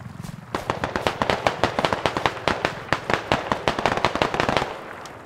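Rapid bursts of grenade blasts and gunfire crackle through a firefight in the military shooter game Squad, with British infantry fighting in Gorodok. The sharp, closely spaced pops run steadily and loud for several seconds.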